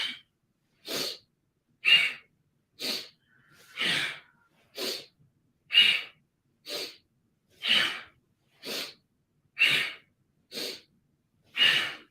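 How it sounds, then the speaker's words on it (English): Forceful breaths during a yoga class, a dozen sharp, loud exhalations in an even rhythm, each separated by brief silence. "Powerful breath."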